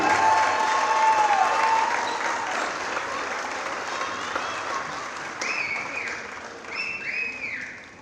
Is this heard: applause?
yes